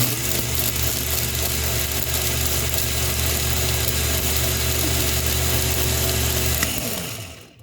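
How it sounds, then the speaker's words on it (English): A countertop blender whirs steadily at high speed through a drink mix, a loud continuous motor drone with no speech, cutting off abruptly near the end as it winds down. "So then we put the top on, and I'm going to blend it one more time"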